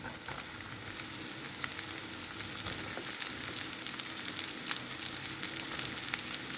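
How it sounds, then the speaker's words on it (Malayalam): Sliced onions sautéing in hot oil in a frying pan, a continuous soft crackling sizzle with scattered pops, steady and fairly quiet throughout. "നന്നായിട്ടൊന്ന് വഴറ്റാം."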